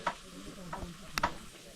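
Food frying and being stirred in a galley kitchen in the Himalayas, with soft sizzling under scattered clicks and scrapes of a utensil against the pan, faint and fairly close.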